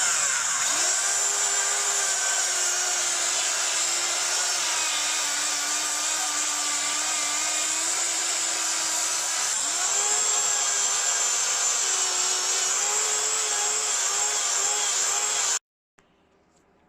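A PowerFile finger sander whines steadily while carving and blending a guitar neck heel transition, a continuous high-pitched buzzing grind with slight pitch shifts before it stops abruptly.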